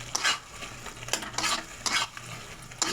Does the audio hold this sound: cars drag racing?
no